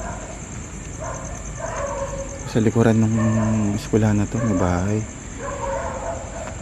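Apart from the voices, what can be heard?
dog barking from a house behind the school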